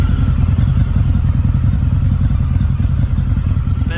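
A Harley-Davidson V-Rod 1131 motorcycle with 2,633 km on it runs with a loud, close, continuous low rumble. The engine beat stays steady throughout.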